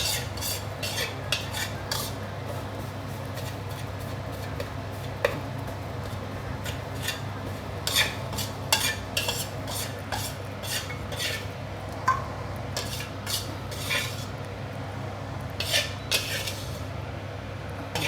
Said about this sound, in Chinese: 再来炒这个沙拉料，这个放下去 炒给它散就可以了